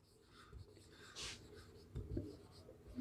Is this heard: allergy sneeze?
no